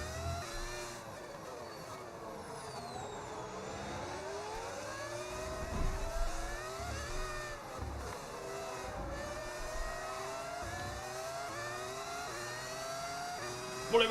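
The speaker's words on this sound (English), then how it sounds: "I've got a V10 mod, mate, so it sounds like the cars of old." Simulated V10 Formula 1 car engine in a racing video game, a high-pitched whining engine note rising and falling through gear shifts over about fourteen seconds, fairly quiet with a voice faintly in the background.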